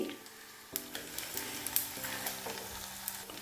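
Edible gum (gond) frying on low heat in a pan, a steady soft sizzle with light crackles and occasional stirring scrapes, close and fairly quiet.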